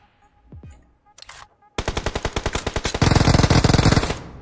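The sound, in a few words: Uzi submachine gun fire in a video game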